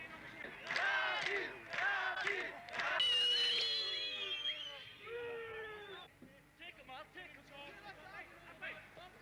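Crowd of local youths jeering and shouting at an England football practice match, a loud babble of raised voices and cries that swells and then fades toward the end.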